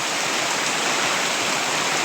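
Heavy rain pouring down under dark clouds, a dense, loud, unbroken hiss of water with no pauses or distinct drops.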